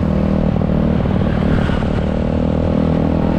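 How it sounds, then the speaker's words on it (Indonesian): A motorcycle with a somewhat noisy exhaust rumbles steadily and loudly up close while riding along a newly built village road in Tumbak Bayu, Bali, with no talk over it. "Cuma ini knalpotnya agak berisik teman-teman ya."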